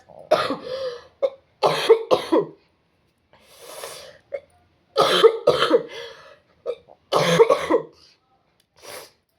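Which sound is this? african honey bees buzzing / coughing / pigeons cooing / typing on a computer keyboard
coughing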